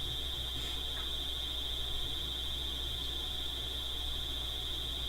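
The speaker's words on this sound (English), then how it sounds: "Okay, that's the alarm over there." A building fire alarm rings down a hallway as one steady, piercing high-pitched tone that holds unbroken from start to finish over a low background hum, with no one speaking.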